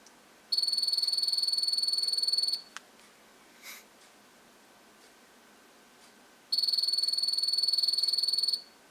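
A vintage 1994 Mighty Morphin Power Rangers Red Ranger house phone rings in two electronic bursts of about two seconds each, with a quiet pause between them and nothing else sounding.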